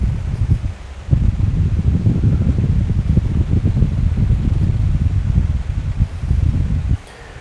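Steady wind gusting across a lake bank during fishing, a loud, continuous rushing and buffeting with brief dips, close to the microphone and with no talk.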